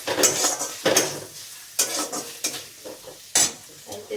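Onion, chili and ginger paste hitting a pan, with a steady sizzle of frying and repeated scraping strokes of a utensil stirring, close and fairly loud, no voices.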